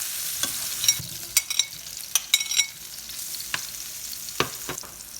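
Garlic sizzles and fries in a pan while being stirred, a continuous crackle with sharp clicks and scrapes of a utensil, close by and with no voices.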